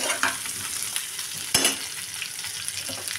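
Raw green banana and potato frying with turmeric, ginger paste, green chilli paste, coriander and cumin in a pan: continuous crackling sizzle with a couple of sharp stirring clatters, close and alone.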